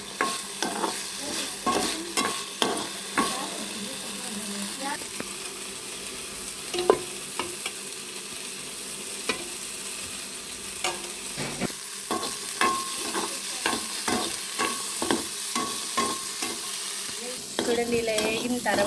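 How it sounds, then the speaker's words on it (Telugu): Fresh coconut pieces fry in ghee in a pan for village-style payasam, a continuous soft sizzle under repeated scraping stir strokes of a spoon, close and steady throughout. "చూడండి పచ్చి కొబ్బరి ఇలాగ నెయ్యిలో వేసి వేస్తుంది"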